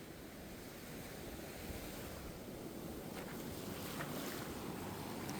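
Waves roll in on Playa Ventanas beach in Costa Rica, a continuous, loud surf wash with rising swells, wind buffeting the microphone and no voices.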